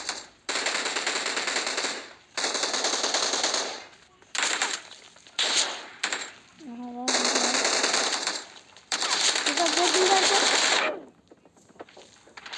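Rapid automatic gunfire from a weapon in a video game, loud close bursts with short pauses between them, plus a brief rising game tone, with no talking.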